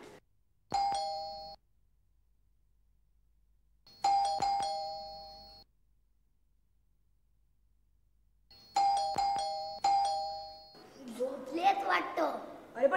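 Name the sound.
doorbell ringing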